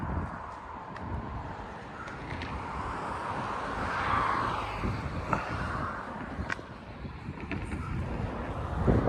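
Steady wind noise buffets the microphone throughout, a continuous low rumble with gusts rising and falling, no voices.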